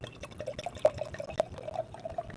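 A drink glugs and trickles as it is poured close by, with small bubbly splashes and drips rising over a soft steady background.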